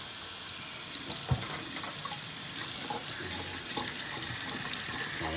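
A tap runs cold water steadily into a sink over a mug, a constant close splashing rush with a few faint clinks underneath.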